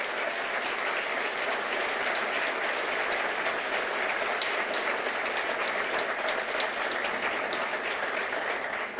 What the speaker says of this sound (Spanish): quiero pedir un aplauso para nuestro ministro de Economía